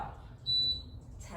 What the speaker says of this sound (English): When you hear that timer beep again, We'll start with our first rep.